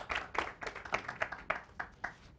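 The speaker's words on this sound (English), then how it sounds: "One thing about getting old, you get applause before you open your mouth" Audience applause greets a speaker at a migration workshop, with a distinct run of separate claps fading in and out at moderate distance, no voices over it.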